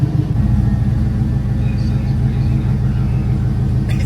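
A Cateye car engine with long tube headers idling, a loud, deep, lopey rumble with a steady pulsing rhythm close to the listener, no talk over it.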